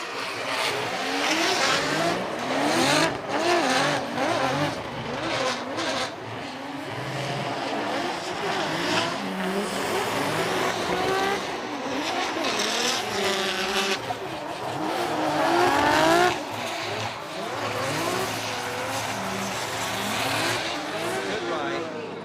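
An E92 BMW drift car at a Formula Drift Japan 2024 event, driven by Kazumi Takahashi for TMS Racing, Team Good Ride, gives loud sustained engine revving with tire squeal, under continuous commentary.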